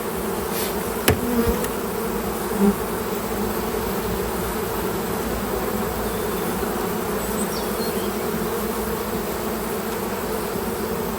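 Honeybees at an open hive during a hive body exchange, a dense continuous buzzing close by that holds steady throughout, with a couple of brief knocks early on and no talking.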